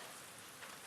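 Steady rain in the post-apocalyptic Seattle streets of the video game The Last of Us Part 2, a dense, continuous hiss of falling water with no other sounds over it.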